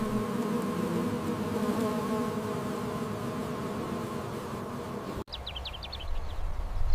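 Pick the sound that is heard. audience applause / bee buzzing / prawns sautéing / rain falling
bee buzzing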